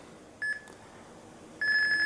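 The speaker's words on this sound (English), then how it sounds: "It also beeps at you the whole time." Wi-Fi Sweet Spots phone app beeping during a network throughput test: a short electronic tone, a pause, then a longer steady beep, clear and close over faint background hiss.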